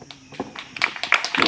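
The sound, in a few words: audience clapping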